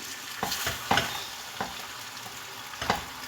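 Macaroni tipped into chicken masala frying in a pan, giving a soft continuous sizzle with several light scraping and clinking hits, fairly quiet and close, no voices.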